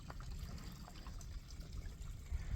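Water from a seasonal spring along the Appalachian Trail in the Smokies trickles in a strong, steady flow, a continuous close splashing and babbling with no voices.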